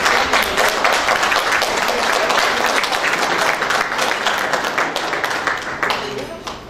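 Strong applause from an audience at an awards ceremony, a loud, dense wash of clapping that holds steady before thinning toward the end.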